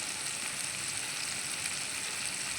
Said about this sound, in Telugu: ఒకసారి తిప్పుతున్నాను టమాటా కచప్ వేస్తున్నాను టమాటా కచప్